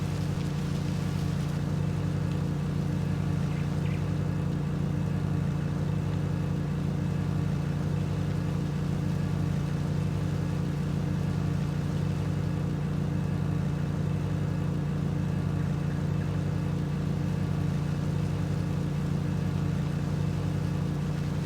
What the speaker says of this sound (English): this thing really can get up and mow. I think we're almost going 11, 12 miles per hour at full throttle here